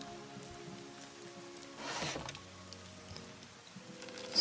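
Rain in the video game Monsters and Memories, a faint, steady patter under quiet game ambience, with one slightly louder swell midway and no talking.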